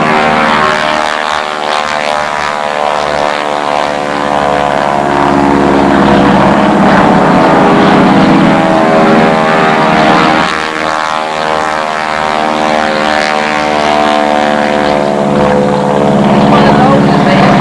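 A propeller-driven WW2 military airplane drones loudly and steadily at an Illinois airfield reunion, its engine note holding throughout with faint voices in the background.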